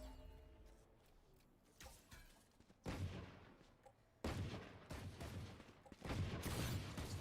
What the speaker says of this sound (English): Couple stray sheriff shots